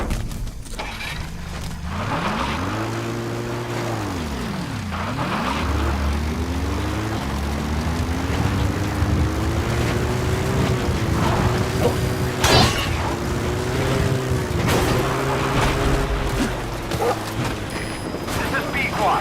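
A helicopter in Metal Gear Solid V: The Phantom Pain arrives with a rising, sweeping rotor and engine drone that dips, then settles into a steady loud hum, with occasional sharp clanks on top.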